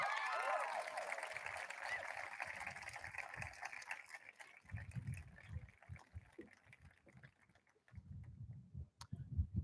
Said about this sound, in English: Keep the applause going, it's a long way to go.